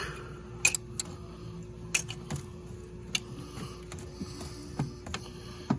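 Sharp, isolated metallic clicks from a ratchet working on the spark plugs of a 2004 Jeep Grand Cherokee 4.0L engine. The clicks come at an irregular pace over a low mechanical hum, close and fairly quiet.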